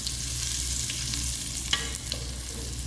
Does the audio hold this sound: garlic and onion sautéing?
yes